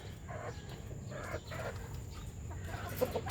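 White Kelso chickens cluck softly in short, scattered calls over a faint hum, with one sharper chirp near the end.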